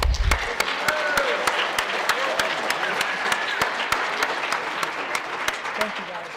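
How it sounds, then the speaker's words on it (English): Applause from the crowd at a school track assembly for the seniors, broad sustained clapping with sharp individual claps standing out in an irregular rhythm. Faint voices and a few whistles or cheers run underneath. "Give these guys one more round of applause."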